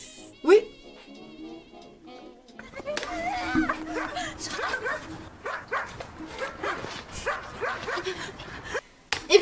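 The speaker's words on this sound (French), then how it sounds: "ça me fait trop peur les chiens quand ils aboient fort comme ça" Dogs bark loudly in an advert, with repeated sharp barks and yips mixed with whimpering and some slapping sounds, while people speak over much of it.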